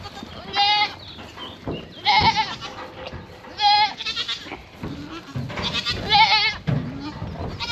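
Several goats on a farm bleat repeatedly and loudly at close range, calls rising and falling in irregular bursts with short pauses between them.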